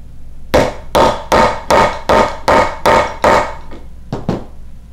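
Rivets are hammered into a leather holster, heard as eight heavy, evenly paced thuds close by, then a couple of lighter quick taps.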